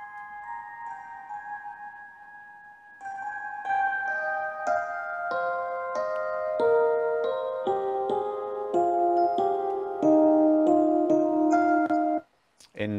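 An electronic remix, opening on a soft sustained synth tone before layered melodic synth notes step in a steady rhythm, fairly loud and clear, then a brief drop near the end.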